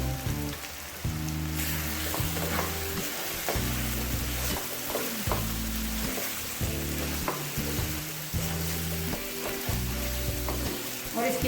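Chicken with coriander powder, turmeric and spices frying in a karahi, a steady dense sizzle with rhythmic stirring and scraping strokes throughout, close and loud with no talk.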